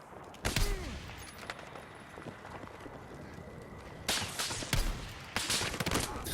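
Gunfire in the video game Battlefield 6 comes as sharp shots and short bursts, with loud clusters near the start and again toward the end, over a busy battlefield background.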